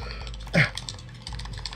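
A computer keyboard clatters during gaming, a fast, close string of light typing clicks with one louder thump near the start.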